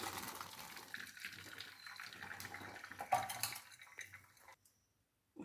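Water drains out of soaked soya chunks in a kitchen with a soft, faint pouring trickle and light clinks of a vessel, then it stops abruptly near the end.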